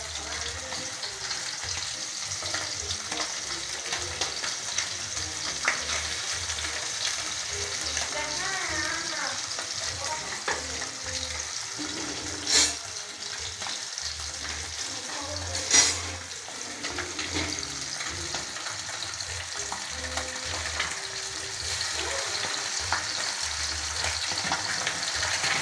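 Pabda fish fries in a non-stick pan, a steady soft sizzle running throughout at low level with a few small clatters, and no voices over it.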